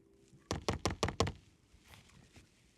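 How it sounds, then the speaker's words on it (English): Five quick taps of a cheesecake pan filled with cream cheese filling in a graham cracker crust, knocked on a counter to release air bubbles, sharp and close in an even rhythm, then quiet. "Give the cheesecake a few taps to knock out any air bubbles."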